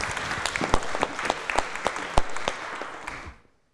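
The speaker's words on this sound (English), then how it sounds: "Please, a round of applause." An audience at a student debate applauds in a steady patter of claps that fades out after a few seconds, with no speech over it.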